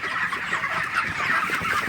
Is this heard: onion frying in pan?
no